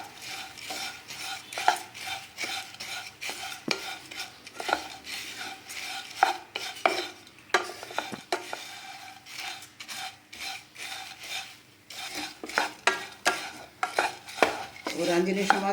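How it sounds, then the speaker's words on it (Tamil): Flattened rice (aval) dry-roasting in a pan while being stirred, giving a steady dry rasping and scraping with repeated light clinks of the spoon against the metal, close and alone without talk. "ஒரு 5 நிமிஷமாவது பார்த்திங்கன்னா இதை நல்லா வறுக்கணும்"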